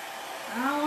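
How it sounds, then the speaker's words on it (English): A hair dryer running close and loud, a steady breathy whoosh with a rising whine as it revs up. "I'm going to try to get it to dry quick. Hope that's not too loud."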